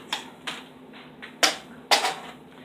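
Paper being cut to size with a trimmer, four crisp slicing snaps spaced about half a second apart, close and fairly loud with no talking.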